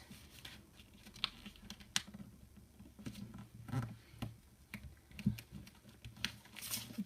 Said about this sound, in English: So we're just going to fold it to that point there.